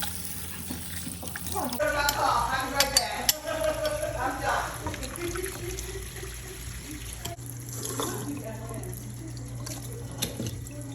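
Tap water runs into a kitchen sink as it is rinsed clean, with splashing and trickling that shift in strength as the flow moves around, under occasional soft talking.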